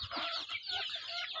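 Newly hatched chicks and chickens in a clean poultry pen, with a dense, steady chorus of high-pitched peeping and clucking close by and no talking.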